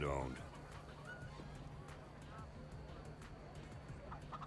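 Minecraft chickens cluck in quiet, scattered bursts beneath low background sound and faint voices, the calls fairly distant and intermittent across several seconds.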